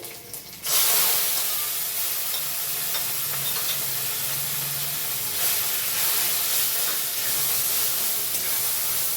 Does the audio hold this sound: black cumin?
yes